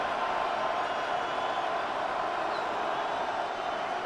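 Stadium crowd noise from the football video game Madden NFL 26 forms a steady, dense roar that holds evenly throughout, with no single voice standing out.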